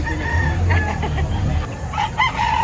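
Rooster crowing at a gamefowl market in Lipa, Batangas, a loud nearby crow with clucking hens and other fowl around it in a busy setting.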